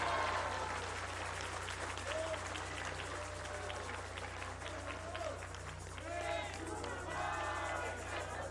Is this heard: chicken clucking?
no